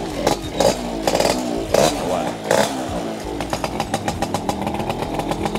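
A cold 78 motorcycle revs close by in a few sharp bursts, then settles into a fast, loud idle with a rapid, even beat. Voices are heard over the engine.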